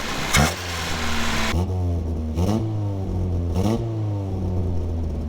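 A car engine runs roughly after refusing to idle, missing and sputtering. It gives an uneven mid-pitched drone broken by several sudden rev surges and dips at irregular intervals, with nobody talking.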